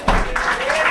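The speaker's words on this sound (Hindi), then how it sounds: "जोरदार तालियों से आमंत्रित कीजिए विवेक त्रिपाठी सर को" Audience applause breaks out at a Hindi Day poetry gathering to welcome a poet, a brief burst of dense clapping with a voice audible over it.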